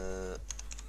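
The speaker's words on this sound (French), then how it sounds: "J'arrive pas à écrire avec mon nouveau clavier, c'est insane." A new computer keyboard typed on in quick, light clicks, a short run of close keystrokes that follows a brief held tone.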